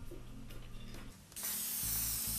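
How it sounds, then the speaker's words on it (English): An aerosol can sprays clear sealer onto a laser-cut wood kit, starting as a sudden loud steady hiss about halfway through after a quiet stretch of faint background noise, then continuing evenly to the end. "The first thing to do on a wood kit is to spray clear sealer on both sides of the wood."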